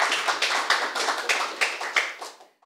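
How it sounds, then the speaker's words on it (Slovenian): Podcast guests in a small live studio audience clap together, a short round of close, loud applause with distinct bursts that fades out cleanly after about two and a half seconds. "Ja, aplavz, tako."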